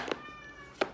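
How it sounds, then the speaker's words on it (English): A house cat meows twice, short and fairly close, the calls spaced under a second apart against a quiet room. "that's my cat."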